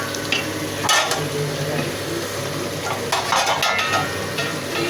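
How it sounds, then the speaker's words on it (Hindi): Green chilies tossed into achar gosht frying in oil, with a loud continuous sizzle and a few stirring scrapes in the pot, close up and without any talking. "इसे साथ जो हमने हरी मिर्च रखी थी ये डाल देंगे"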